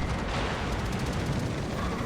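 Aircraft bombs burst around a warship in World of Warships Legends, a dense, sustained rumble of overlapping blasts filling the whole stretch at steady loudness, with no voices over it.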